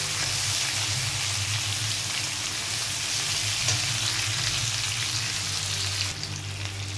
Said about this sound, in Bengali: তো দেখুন এটাকে হালকা করে ভেজে নিচ্ছি